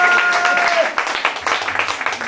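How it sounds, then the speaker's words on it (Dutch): Audience applause breaks out for a celebrated elderly DJ at a local broadcaster's anniversary event, brief clapping layered over lingering music and voices. "Mag ik een applaus voor Nederlands oudste DJ."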